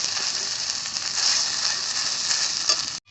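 Cumin and ginger paste hit hot oil with a loud, bright, continuous sizzle close up, holding steady before cutting off abruptly near the end.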